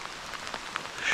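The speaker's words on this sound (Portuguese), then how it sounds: "Chuva que Deus manda." Rain falls steadily on a surface during a fishing trip, a soft constant patter of drops close by with no talking.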